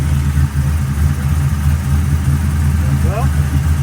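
Restored GM car engine idling after an ignition timing adjustment with the vacuum advance hooked up, a steady low rumble close by with a brief faint chirp near the end.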